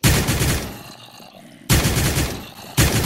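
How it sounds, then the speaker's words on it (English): Automatic gunfire from a weapon in the Crafting Dead Minecraft mod: loud sustained bursts of shots, a brief pause, then two more bursts, with no talk over them. "As you can see, this is how it sounds when you shoot it."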